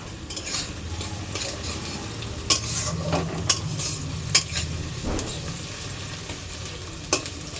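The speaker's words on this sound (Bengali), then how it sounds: "এই যে আলুটা পেঁয়াজটা ভাজছি" Potato and onion fry in a pan on a gas stove, giving a constant sizzle with a low burner roar and occasional sharp clinks and scrapes of a spatula.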